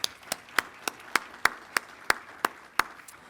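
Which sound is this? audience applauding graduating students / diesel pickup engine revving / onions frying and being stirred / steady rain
audience applauding graduating students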